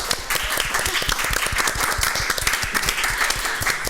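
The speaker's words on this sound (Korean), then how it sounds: "박수 소리가 큽니다." A room full of people claps enthusiastically at a Korean public-sector job event, dense and loud applause that stays even and continuous throughout.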